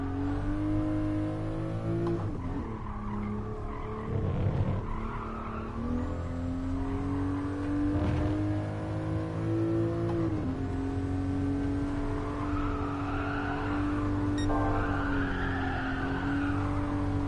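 Engine of a car in GT Sport, a steady race-car drone that rises and dips with gear changes and revving, with occasional tire squeal, loud and continuous throughout.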